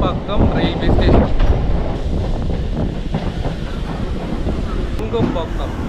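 A Chennai suburban train running between Chennai Beach and Tambaram rumbles and rattles along with steady rolling noise and wind buffeting the microphone, loud and close throughout.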